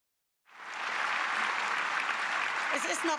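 Dense, loud applause fills the German parliament chamber, rising sharply from silence and holding steady as a broad, continuous wash of many hands.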